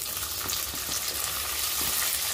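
Chopped onion and green chilli frying in a pan over a high gas flame for paneer chilli, making a loud, continuous hiss of sizzling oil with faint stirring knocks, close and without voices.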